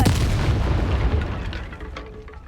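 A Confringo fire spell blasts in the video game Hogwarts Legacy, a loud, close explosive boom with a heavy low rumble that decays over about two seconds into crackling debris.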